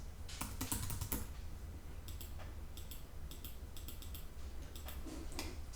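Typing on a computer keyboard while working in a spreadsheet, with clusters of quick clicking keystrokes separated by short pauses over a low steady hum.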